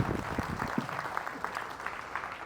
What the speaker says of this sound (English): the rest of the room is going to give Kelly a huge round of applause for helping out